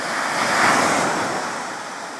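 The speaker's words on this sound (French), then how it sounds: "Vous voyez très bien les vagues qui défilent derrière lui." Ocean surf rolls onto a beach in steady, loud washes, with wind noise across the microphone and no one speaking.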